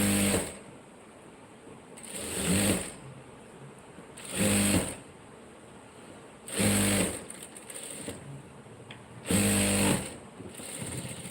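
Four loud, evenly spaced bursts of whirring come from a sewing machine stitching a blouse, each lasting about a second, with a faint steady hum and quiet rustling in the gaps.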